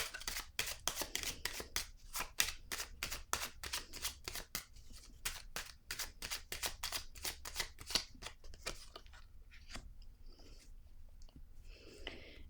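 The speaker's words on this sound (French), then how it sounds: "je vais piger une carte supplémentaire ici" Tarot-style cards are riffled and flicked in a rapid, regular run of crisp snaps close up, slowing into a few scattered card sounds as an extra card is drawn from the deck.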